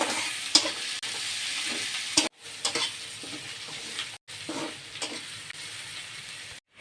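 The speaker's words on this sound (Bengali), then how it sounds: "এখন আমি পেঁয়াজ রসুনগুলো লাল লাল করে ভেজে নেব" Chopped onion and garlic frying in hot oil with bay leaves, a steady close sizzle broken by scraping stirs and a few brief pauses.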